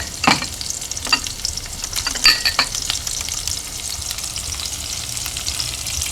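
Pork and bean sprout stir-fry cooking in hot oil in a pan, a steady close sizzle broken by a few sharp spits and stirring scrapes early on.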